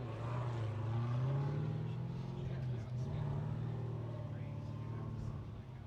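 A supercharged V8 Nissan 240SX drift car on a Formula Drift qualifying run in Orlando makes a steady, somewhat distant engine roar that rises slightly, heard beneath ongoing commentary.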